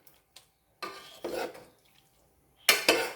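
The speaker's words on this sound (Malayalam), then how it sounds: "ഒന്ന് ഇളക്കി കൊടുക്കാം." Spoon stirring sardine curry in a pressure cooker, a few scraping strokes and clinks against the metal pot, close and fairly clear.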